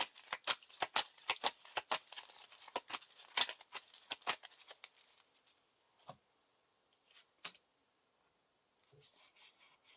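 Playing cards riffle and snap in a quick burst of crisp flicks, followed by a few isolated taps and a brief rustle after a pause.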